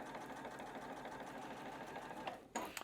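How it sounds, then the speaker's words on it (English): A domestic sewing machine stitches along a marked line through quilting cotton for a patchwork block, a steady fast mechanical whir that runs quietly and evenly, then stops with a couple of clicks at the end. "I'm going to sew through this line."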